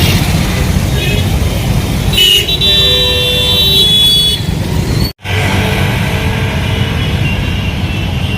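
Traffic jammed on the Singh Nagar flyover rumbles steadily throughout, with a sustained horn blaring in the middle stretch, then a brief drop to near silence before the dense engine and road noise resumes.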